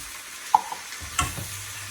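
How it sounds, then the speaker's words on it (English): Vegan vegetable pasta with basil, salt and lemon juice gets a last stir in a pan, a quiet background with two brief utensil clinks and a soft scraping shuffle close by. "And one final stir."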